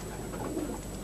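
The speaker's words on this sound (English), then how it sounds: "These are all young birds." Young pigeons cooing together in a loft, a low continuous rolling murmur of several birds close by, steady throughout the short moment.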